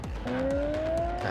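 An ORA 07 electric car accelerates hard at full throttle in sport mode, its rising synthetic whine climbing steadily in pitch over a low rumble of road and tire noise.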